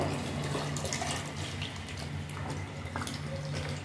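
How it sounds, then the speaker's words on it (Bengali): Water splashes steadily into a pot of cooked dal made with fish head, a continuous pouring and trickling sound over a low kitchen hum, with no talking. "পরিমাণ মতো জল দেবো।"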